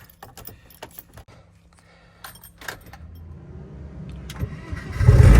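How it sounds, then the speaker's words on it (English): Keys jangle and click into the ignition of a Mini Cooper S, followed by the engine cranking and starting up, the motor growing loud and close at the end. "Right, watch this beast start up. If the key goes in."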